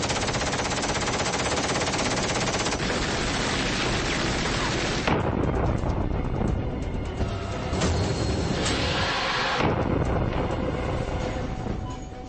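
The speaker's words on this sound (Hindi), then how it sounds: "Alright, firing." Continuous, loud, rapid gunfire fills a military strike scene in a war film, a dense unbroken rattle at first, then continuing in chopped bursts with brief breaks through the rest.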